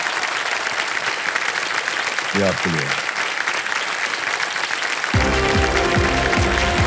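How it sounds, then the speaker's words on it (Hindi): Studio audience applause on a quiz show fills the whole clip as dense, loud, steady clapping, with a short spoken phrase partway through and music entering toward the end. "एक बार जोरदार तालियां बजाएं."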